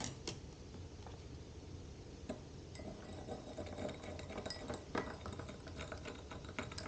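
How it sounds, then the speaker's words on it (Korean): A spoon stirring sugar in a glass of water, with faint repeated clinks and ticks of metal against glass in a quiet room, soft and close. "그 다음으로 설탕을 한번 저어보도록 할게요."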